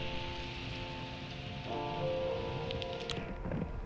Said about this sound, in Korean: 비도 오고